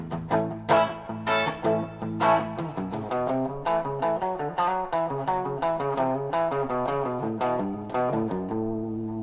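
A solo guitar with a slightly distorted tone plays bluesy, jazzy phrases with passing tones, plucked notes and quick runs in an uneven, expressive rhythm, loud and close with no talk.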